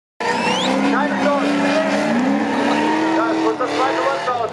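A supercharged BMW M3-engined drift car at the Nürburgring 24h drift show screams past with sustained tire squeal and engine wail, rising and falling over nearly five seconds, loud and close, with crowd noise beneath.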